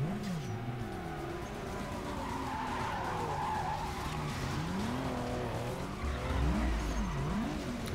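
Tires skidding and squealing as a car drifts in Need for Speed Most Wanted (2005), with wavering screeches sweeping up and down over a steady engine drone, close and loud, rising near the end, no talking.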